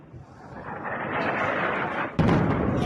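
Explosions in Tehran boom in the distance, a rolling low rumble that swells, then a sudden heavy blast hits and sustains into a loud, broad roar.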